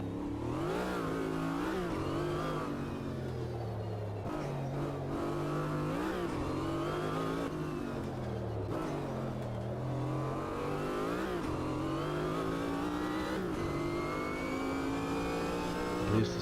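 A Chevrolet race car in the racing game Automobilista 2 revs hard and steadily for the whole stretch, its engine note climbing and dropping through repeated gear changes, heard loud and close from the cockpit.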